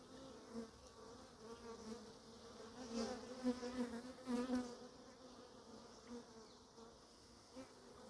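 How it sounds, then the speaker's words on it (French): Honeybees buzz steadily in a dense, droning swarm around an open hive, rising and swelling for a few seconds before settling back to a softer hum nearby. "Les abeilles sont sorties me dire bonjour."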